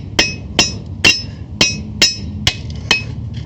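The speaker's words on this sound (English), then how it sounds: "Lay them on your side, take your chisel. There's a little seam right here. You just give them a little pop." Cold chisel tapped with a hammer against the seam of a transformer lying on its side, giving seven sharp metallic strikes at a steady, roughly half-second rhythm, close and clear over a low background hum.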